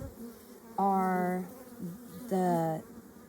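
Honey bees buzz in two loud bursts with a droning, pitch-wavering hum, over a quieter background of bee activity from a hive frame of nurse bees.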